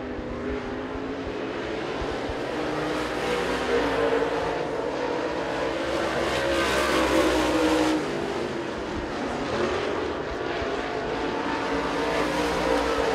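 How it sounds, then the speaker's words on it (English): Steelhead class race cars running qualifying laps at Dixie Speedway, a continuous roar of engines from a distance that swells and fades as the cars circle the dirt oval. "So the first lap for Sizemore"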